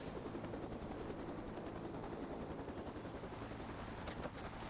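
A helicopter in The Mummy Demastered video game gives a fast rhythmic rotor chop, steady and fairly quiet, with rapid gunfire-like pulses blended in.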